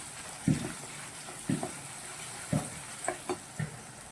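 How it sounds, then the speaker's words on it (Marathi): Onion, tomato and curry leaf stuffing for shengolyachi amti sautéing in a pan, a soft continuous sizzle broken by regular stirring scrapes roughly once a second. "आपल्याला दोन मिनटं हे सारण परतून घ्यायचं आहे"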